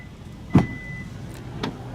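A 2020 Hyundai Tucson's smart trunk alert sounds a soft, steady electronic chime for under a second, with a mechanical clunk as it starts and another click shortly after as the trunk releases.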